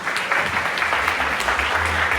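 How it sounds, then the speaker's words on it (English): Dense, steady applause from a convention audience on Saipan honoring work crews, many hands clapping together without pause for the whole stretch. "Let's give them a round of applause."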